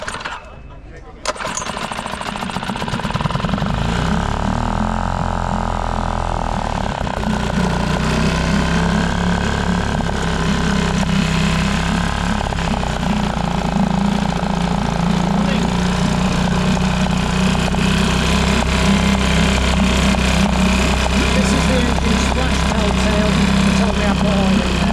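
An outboard boat motor that has sat unused for two years is pull-started after a short rattle, then runs with a loud, steady droning engine note close by.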